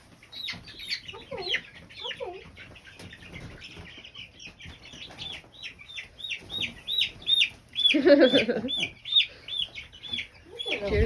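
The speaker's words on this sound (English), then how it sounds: "we have a new home for our baby chicks, 3 weeks old." Three-week-old baby chicks in a backyard coop, a flock of high cheeping peeps, near and continuous, with clucks, wing flaps and some rustling, louder toward the end, and a person's voice briefly mixed in.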